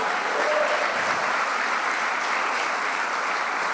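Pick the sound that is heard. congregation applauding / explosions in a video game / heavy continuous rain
congregation applauding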